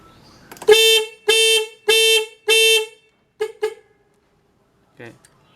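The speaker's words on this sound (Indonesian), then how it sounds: "Kalau kita konekin yang negatif, dia langsung nyala alarmnya" A car alarm set off by reconnecting the battery sounds four long, loud, evenly spaced siren tones, then two short chirps, before a brief faint sound near the end.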